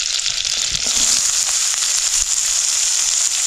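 Onion, garlic and ajwain fry in hot oil with cumin and mustard seeds, giving a loud, continuous close sizzle that crackles evenly throughout, with no voices.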